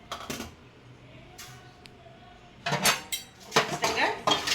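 Roasted sesame seeds being moved onto a plate in a kitchen, with scattered clinks and scrapes of a metal pan and spoon and a busier run of clattering in the second half.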